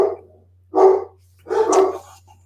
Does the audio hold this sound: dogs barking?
yes